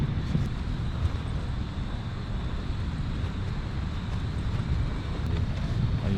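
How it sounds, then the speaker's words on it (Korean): Continuous low rumbling of strong wind buffeting the microphone at a tent campsite on Jeju Island, steady and loud throughout with no voices. "바람소리 너무 커보니까."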